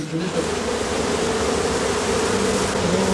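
Bees swarm around a straw skep at dusk, a steady, dense buzz from many insects close by, continuous throughout with no talk.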